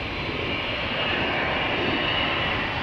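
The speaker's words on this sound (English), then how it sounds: "And now we can hear it extra well with the wind blowing towards us. Nice little Dreamliner." A Boeing 787-9 Dreamliner jet takes off, a loud, continuous, close roar of engines carried toward the listener on the wind, steady and dense throughout.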